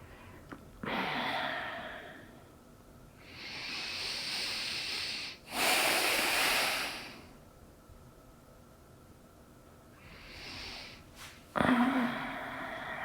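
Slow, deep breaths during a lower-back yoga stretch, long airy inhales and exhales in separate swells with quiet pauses between, close and soft, alone without talk.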